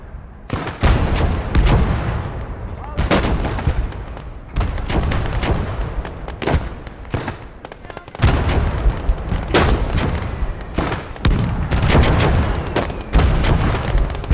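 Heavy field guns and Russian artillery firing in the video game Blood Red Snow: a loud, close barrage of booming shots arriving in irregular clusters, one after another, with rumbling tails and no pause.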